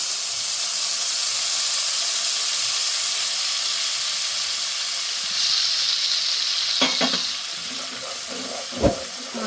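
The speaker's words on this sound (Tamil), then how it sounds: "லெமனை புழிஞ்சு வச்சுருந்தோம் இல்லையா, அதை இதில் ஊற்றிக்கலாம்." Squeezed lemon juice poured into a hot tempering pan with asafoetida, setting off a steady, loud sizzle and hiss that swells briefly, then a few clinks and stirring knocks near the end.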